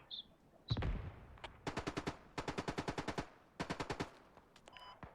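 A marksman fires in a squad shooter video game, with a single heavy shot followed by several rapid bursts of evenly spaced gunfire, sharp and close, separated by brief pauses.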